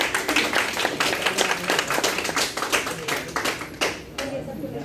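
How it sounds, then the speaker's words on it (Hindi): A gathering at a second birthday celebration claps after a prayer to Saraswati, loud rhythmic hand claps in quick succession that thin out toward the end, with voices talking over them. "तालियां बजनी चाहिए।"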